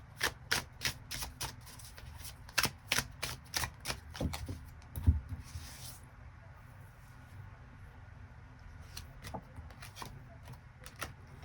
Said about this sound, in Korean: 새로운 인연의 가능성에 대해서 추가 카드 뽑아보도록 하겠습니다